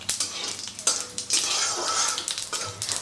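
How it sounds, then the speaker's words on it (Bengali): Whole spices, cardamom, cinnamon, bay leaf and cumin seeds, fry in hot oil with a crackling sizzle broken by repeated scraping and clinking of a spoon against the pan, close and without speech. "তো ফোড়নটাকে ভালো করে ভেজে নেব"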